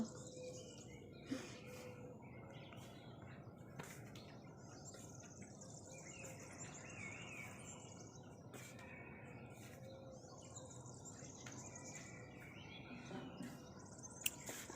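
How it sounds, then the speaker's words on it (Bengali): Birds call and chirp continuously in the open air on a morning outdoors in a cold-climate country, mixed with a steady insect-like trill, moderately distant and soft throughout, with no talking. "চারিপাশে পাখির শব্দ"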